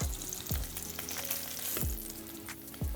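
Salmon pan-frying sizzles steadily and close by, with a few sharp knocks from a utensil or pan breaking through the hiss; no one speaks.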